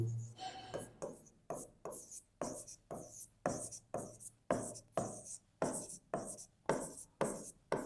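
Pen or pencil strokes writing a multiplication table by hand on paper, a steady series of about a dozen short scratchy scrapes, close and quiet, with brief pauses between them.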